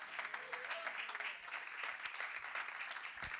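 A church congregation claps along during a Spanish-language sermon on the death of Christ, a dense steady patter of many hands filling the room at moderate volume without a break.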